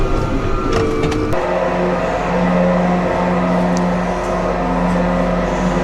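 A tractor engine rumbles steadily and close by while the machine is maneuvered to squeeze equipment into a shed, a continuous low drone with no speech.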